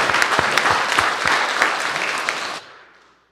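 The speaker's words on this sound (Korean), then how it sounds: "우리 하나님께 감사의 박수 올려드리겠습니다." A church congregation claps together after a benediction at a worship service, a dense burst of applause with sharp individual claps that stops abruptly after about two and a half seconds, leaving a faint room tail.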